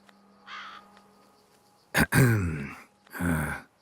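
Crows in the video game The Witcher 3 give a few harsh, raspy caws, one short and distant, then two loud close calls, over a faint steady game ambience.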